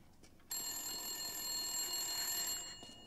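A telephone rings in Resident Evil Village: Shadows of Rose, a loud, steady electronic bell tone starting abruptly and sustained for about two seconds before fading, with no talk over it.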